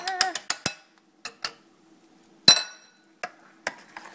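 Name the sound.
mixing gyro sauce together in a bowl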